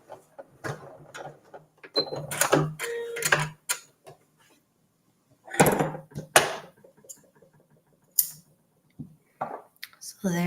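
A sewing machine edge stitches a fabric strip for a mug cozy in short whirring bursts, each a few seconds long, with quiet pauses between them and a person talking over parts of it.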